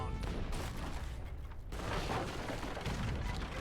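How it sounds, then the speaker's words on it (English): Imperial Culverin cannon shots striking a battleship in Age of Empires III, a dense run of loud overlapping booms and impacts that blur into steady battle noise, with a brief lull partway through. "look at those Culverin shots just tickling the battleship"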